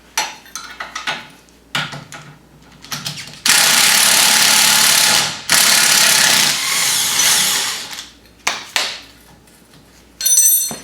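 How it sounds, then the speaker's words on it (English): Removing the lower knuckle bolt on a 2015 Wildcat Sport with a 13mm socket: a loud, sustained whir of a power tool in two long runs, surrounded by short bursts and metallic clicks and clanks. "Next, I'm going to take off the bolt out of the lower knuckle."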